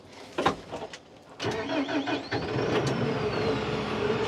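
A tractor engine cranks and catches on a snowy day, a brief starter whir followed by a steady mid-pitched idle that settles in and runs on, fairly close, with no talk.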